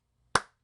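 One crisp hand clap, close and isolated, with a short decaying tail in silence.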